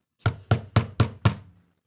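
A door is banged with a fist: five loud, evenly spaced knocks over about a second and a half, close and clear, with no voices.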